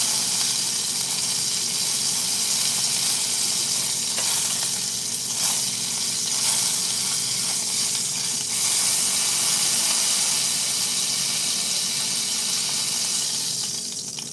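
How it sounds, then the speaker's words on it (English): Apples sear in a hot pan, giving a loud, continuous close sizzle and hiss of frying that holds steady throughout with faint shifts as the fruit is held in place. "Gotta sear it."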